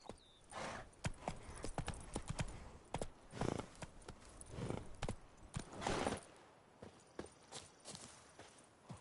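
A horse's hooves trotting in The Witcher 3, heard as a close, loud run of distinct clip-clop strikes in an uneven rhythm with no talk.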